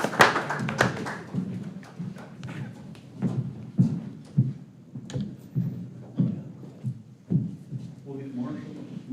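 Scattered clapping from an audience at a Pulaski County fiscal court meeting, heard as irregular individual claps and thumps at moderate volume with no steady roar.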